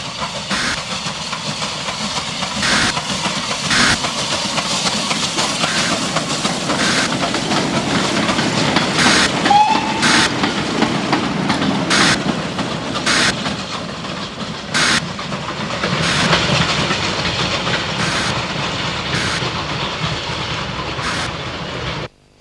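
A Spanish-built Engerth-type narrow gauge steam locomotive from the 1950s rumbles past with a continuous hiss and chuffing, with periodic sharp bursts and clanks as the train runs by at close range.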